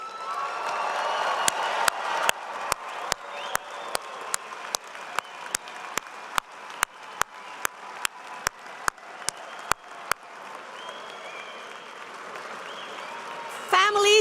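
An audience at a fall commencement for baccalaureate and associate degree graduates applauds steadily for about ten seconds, a broad wash of clapping punctuated by sharp, evenly spaced claps, then thins toward the end.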